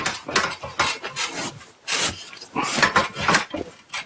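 An Isonat flex wood fibre insulation panel is wedged and rubbed into position, producing repeated close, rasping scrapes in uneven strokes with brief pauses between them.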